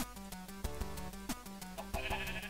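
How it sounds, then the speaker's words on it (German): Sheep in the video game Minecraft bleat repeatedly in short, close, loud calls that overlap with game sounds and steady background music. "Oh Gott, hier sind ganz viele Schafe."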